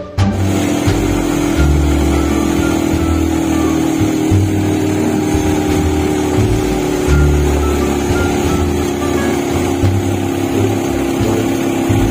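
Vehicles idle and pass near a roadside wait for a van in Santiago City, Isabela, with a loud, continuous engine rumble that swells and eases as they go by.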